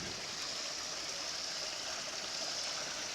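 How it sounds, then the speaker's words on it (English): Steady, close rush of water spilling over rocks, a continuous hiss of a small waterfall on Antietam Creek with no voices. "A little waterfall."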